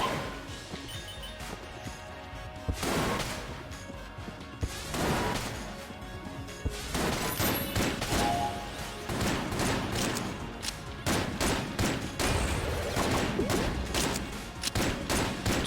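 Gunfire in the video game Exit the Gungeon, including a charge gun, comes as loud bursts of rapid shots and sharp cracks, building from scattered blasts into a dense, near-continuous barrage.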